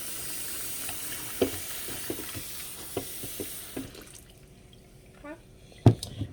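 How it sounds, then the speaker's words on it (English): Water pours steadily into a plastic protein shake container for a few seconds, then stops, leaving scattered drips and light clinks, heard close with a faint voice in the background. "So you can do halfway and fill the rest with water."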